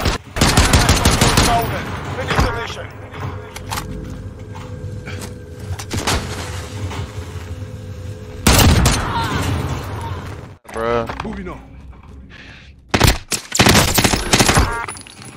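Loud automatic gunfire from Call of Duty: Modern Warfare Warzone comes in several rapid volleys with short gaps, mixed with heavy impact thuds, mechanical clatter and faint background game noise.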